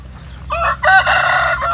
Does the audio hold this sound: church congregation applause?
no